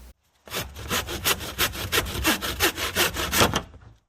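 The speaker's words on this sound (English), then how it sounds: "I started by cutting up some 3/8" dowels" A hand saw cuts through a 3/8 inch wooden dowel in a woodworking shop, about a dozen quick rhythmic back-and-forth strokes, close and clear, ending abruptly.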